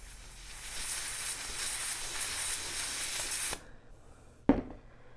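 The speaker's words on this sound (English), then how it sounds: "if you use the compressed air on parts like" A can of compressed air blowing on Lego parts gives a steady, loud spraying hiss for about three and a half seconds, then stops abruptly, followed by a sharp click or tap on the parts.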